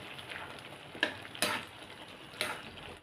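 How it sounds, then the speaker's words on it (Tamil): Banana flower kootu with coconut and cumin is stirred in a pan, giving a quiet, faint sizzle under three sharp scrapes and knocks of the spoon against the vessel. "இதை நல்லா கிண்டி விட்டுருவோம்"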